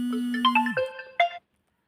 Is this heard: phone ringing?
yes